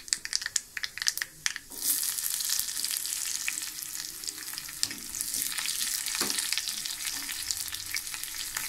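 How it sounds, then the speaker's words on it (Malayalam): Mustard seeds and chopped onion fry in hot oil for tempering on a gas stove: sharp scattered pops of seeds first, then a loud, steady sizzle with crackles running to the end. "ഇനി കടുക് പൊട്ടിച്ചിട്ട് ഉള്ളി അരിഞ്ഞ് താളിച്ചിട്ട് ഇതിലേക്ക് ഒഴിച്ചു കൊടുക്കാം."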